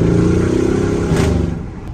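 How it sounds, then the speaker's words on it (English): A car engine drones and pulses close by on a steep mountain road, loud and continuous and fading slightly toward the end. "You get to hear the cars a lot more."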